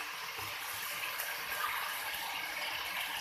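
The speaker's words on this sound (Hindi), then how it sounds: "अब हम इसके अंदर थोड़ा सा पहले पानी ऐड करेंगे।" Water is poured steadily into a kitchen pot of lamb curry, meat browned with onion, ginger and garlic, making a continuous soft splashing rush with no talk over it.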